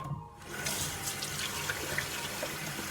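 Tap water runs steadily into a bathroom sink while a face is rinsed during a morning skincare routine, a close, continuous splashing rush after a brief quiet start.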